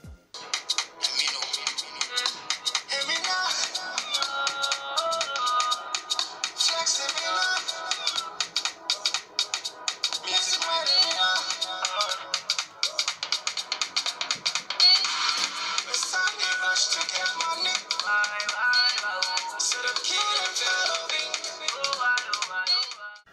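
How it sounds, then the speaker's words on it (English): An Oppo A5s phone loudspeaker plays a bright melodic ringtone, continuous, close and fairly loud with thin, tinny treble, heard alone. "Here's how the speaker sounds like."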